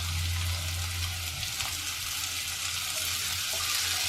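Bitter gourd curry with added sugar and lemon juice cooks in a pan over medium heat, giving a steady, even sizzle with a low hum underneath and no voices.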